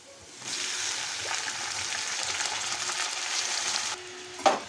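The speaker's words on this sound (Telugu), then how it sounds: "ఇప్పుడైతే నేను ఈ చిక్కుళ్ళు అయితే విందులో వేసేసుకుంటున్నాను" Broad beans dropped into a hot tempering, a sudden sustained close sizzle that holds steady for several seconds, then drops off with a brief clatter at the end.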